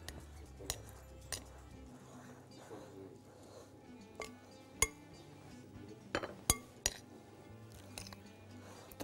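Vegetables are stirred in a pot while making pasta with duck and chicken, with scattered clinks and taps of a utensil against metal over a quiet background, some sharper knocks near the end, and a voice speaking faintly.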